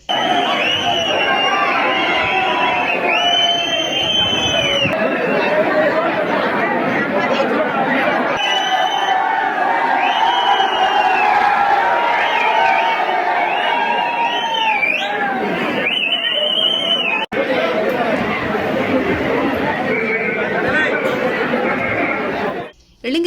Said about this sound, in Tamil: முறையான ஏற்பாடுகள் இல்லாமல் மார்க்கெட் போல கூச்சல் குழப்பமாக நீடித்தது